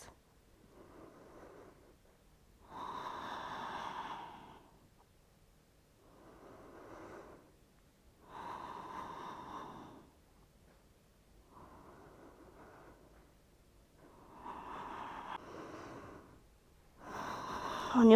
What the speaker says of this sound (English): 5 more full breaths.